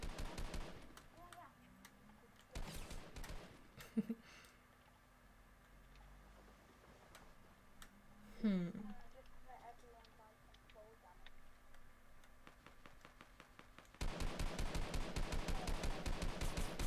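Gunfire in Fortnite arrives in short bursts scattered between quieter moments with speech, then swells into a long, loud, rapid automatic volley near the end.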